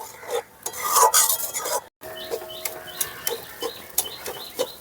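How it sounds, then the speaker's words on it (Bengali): Semolina and carrot pitha filling is stirred in a pan over a high flame, the spoon scraping in short, rhythmic strokes that are quiet and close, with a brief pause partway through. "এখন নাড়াচাড়া করে গ্যাসের ফ্লেমটা হাই করে দেবো।"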